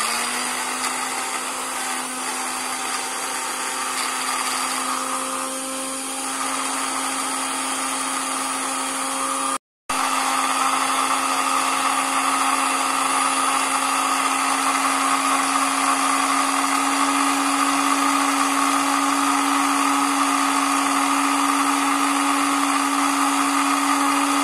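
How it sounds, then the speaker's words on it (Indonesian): A blender grinds lamtoro (leucaena) leaves for chicken feed, running loud and steady with a high motor whine, briefly cutting out near the middle before resuming. "Kita langsung saja blender."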